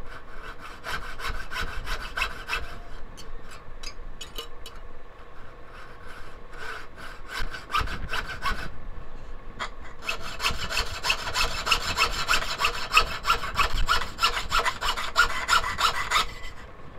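A small hand saw recutting a wooden whale tail pendant, rapid rhythmic scratchy back-and-forth strokes close up, pausing briefly midway and then resuming more intensely, with no talk.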